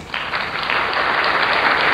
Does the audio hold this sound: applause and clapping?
yes